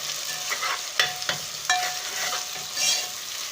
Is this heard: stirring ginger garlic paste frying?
yes